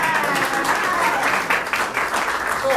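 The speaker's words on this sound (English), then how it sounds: "We should give her a great round of applause." Audience applauding at a Rockin on the River news conference, a steady wash of many hands clapping throughout, with some talk faintly underneath.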